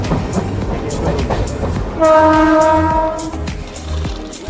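A crowded Bengal local passenger train with ICF coaches runs along the line between stations near Purulia, a loud rumbling roll with rail clatter, then a sustained horn blares for a couple of seconds before the train noise carries on.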